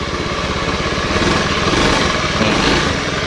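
A Honda Beat FI fuel-injected motor scooter with a hard-starting, won't-rev fault buzzes close by as its small engine is revved, giving a steady, loud, rattly drone that swells slightly and holds.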